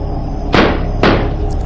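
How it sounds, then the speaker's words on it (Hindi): In a cartoon, a door is being broken down: two heavy, sharp slams strike about half a second apart over a steady background hum, with no voices. "गुल्ली बुल्ली जब देखते हैं तो उन्हें पता चलता है कि उस शैतान ने दरवाज़ा ही तोड़ दिया है"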